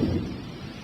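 A low rolling rumble of thunder from a tropical storm in leopard country, strongest at the start and fading slightly over a brief moment, with no talking.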